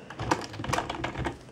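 Rapid typing on a computer keyboard, a quick irregular run of crisp key clicks up close at moderate volume, with no voices.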